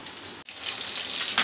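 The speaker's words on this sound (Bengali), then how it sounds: "মাছ ভাজা চলছে" Fish frying in a pan, a steady close sizzle with a brief break early on and a slightly louder burst at the end, no voices.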